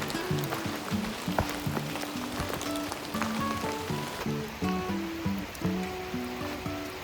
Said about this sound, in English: the rain started up again